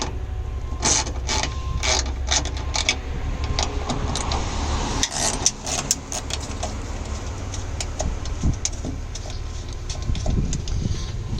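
A fastener is loosened while fitting bonnet struts on a DS3, giving rapid mechanical ratcheting clicks in bursts, close and clear over a low background hum, with no speech.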